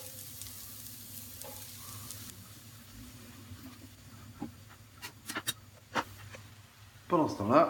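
Sliced mushrooms with onions hit a hot pan after a few sharp utensil clicks and taps, then break into a loud, crackling sizzle at the very end.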